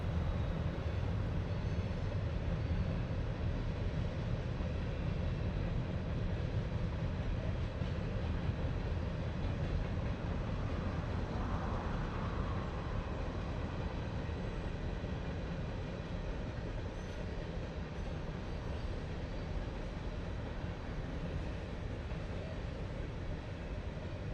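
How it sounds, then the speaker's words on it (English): Steady low rumble of Norfolk Southern freight train M692 rolling along the former Clinchfield Railroad toward Copper Creek Trestle, continuous and fairly even throughout, with no voices. "M692 is running on the Kingsport and Blue Ridge subdivision, formerly the Clinchfield Railroad"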